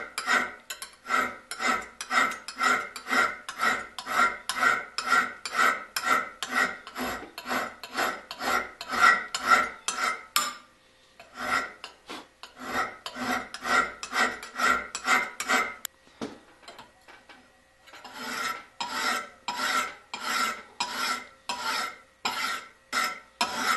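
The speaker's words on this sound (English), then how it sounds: "I'm going to keep on filing until I feel that burr." Hand file scraping the edge of a single-bevel broadhead in a fast, steady rhythm of rasping strokes, close and clear, with two brief pauses between bursts.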